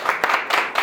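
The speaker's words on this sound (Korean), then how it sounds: "대단합니다. 박수 한번 쳐주세요." Brief burst of audience clapping at a pastors' seminar in a church setting, a dense patter of hands lasting under a second with no voices.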